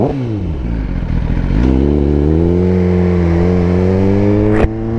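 A Suzuki GSX-R1000 sport bike engine revs hard from idle, the pitch climbing sharply then holding at a high, steady wail, loud and close with no talking, ending with a brief snap near the end.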